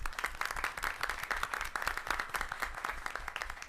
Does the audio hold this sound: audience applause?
yes